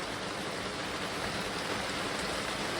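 Heavy monsoon rain pours down steadily, a fairly faint, unbroken wash of dense hiss, with no voices or distinct separate drops.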